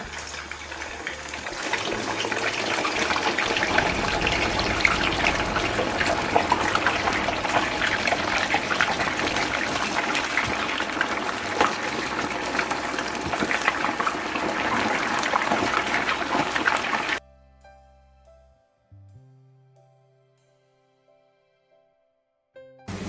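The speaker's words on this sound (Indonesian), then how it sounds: "ini pempeknya kita gorengnya sampai ini loh, sampai dia garing di luarnya aja ya" Steady loud sizzling of small egg-filled pempek fish cakes frying in hot oil, continuous for most of the stretch, then abruptly cutting to near silence with faint clinks.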